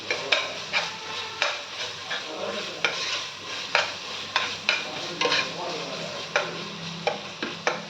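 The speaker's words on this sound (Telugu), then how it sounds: "పచ్చిమిరపకాయ, ఉల్లిపాయ అన్నీ వేగాయండి" Green chillies and onions frying in a pan for chicken curry, a soft steady sizzle broken by regular sharp scrapes and knocks as a spatula stirs against the metal, close and repeated every half second or so.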